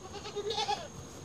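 A month-old baby goat gives a short, wavering bleat close by, a single thin cry rising and falling over quiet background.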